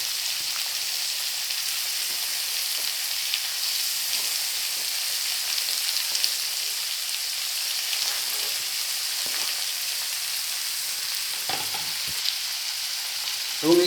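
Finely chopped tomato fries with small fish in a pan, giving a loud, even, continuous sizzle throughout, with a brief utensil clatter near the end and no talking.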